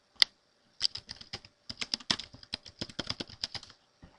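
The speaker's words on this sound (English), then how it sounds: "I can type whatever sort of text I want there" Typing on a computer keyboard, a single keystroke and then a quick run of crisp, close clicks in an uneven rhythm, with no voice.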